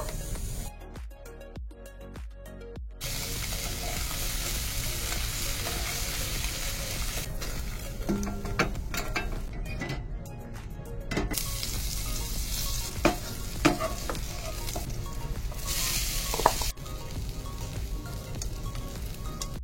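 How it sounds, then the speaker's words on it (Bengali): Fish fries in a home kitchen pan, giving a close, steady sizzling hiss with crackles and a few brief quieter moments, no one speaking. "এবার আমি মাছটা ভেজে নেব"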